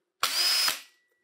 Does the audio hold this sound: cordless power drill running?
yes